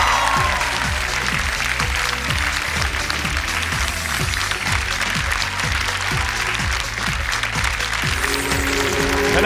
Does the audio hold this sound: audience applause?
yes